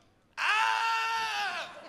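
A person imitates the scream of a woman whose car window is being smashed, a single loud, sustained high-pitched shriek lasting over a second in an otherwise quiet room.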